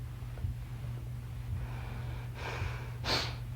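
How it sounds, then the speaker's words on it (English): Someone with allergies breathes through a sniffly nose, giving a few soft sniffs followed by two louder, close airy snorts toward the end over a low background hum. "I was showing you how I can breathe through my nose a little bit"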